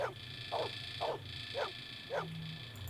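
A puppy in the video game Blade Runner gives four short, evenly spaced yips or barks, fairly close, over a steady low electronic hum and background ambience.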